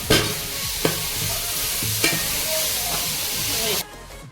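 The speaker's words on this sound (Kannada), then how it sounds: "ಎರಡು ಹೆಚ್ಚಿದ ಈರುಳ್ಳಿಯನ್ನು ಚೆನ್ನಾಗಿ ಕೆಂಪಗಾಗುವವರೆಗೆ ಅದನ್ನು ಫ್ರೈ ಮಾಡೋದು" Chopped onions and tomatoes fry in a pan for Tyson chicken sukka, giving a steady, close sizzle with a few sharp clinks and scrapes of stirring. It stops abruptly near the end, and nobody speaks.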